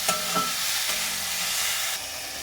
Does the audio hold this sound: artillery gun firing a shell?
no